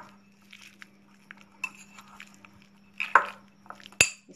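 A spoon clinks and scrapes against a bowl while broccoli pickle with oil and black salt is stirred, with soft wet squelches, scattered quiet taps and two sharper clinks near the end, close with a faint steady hum.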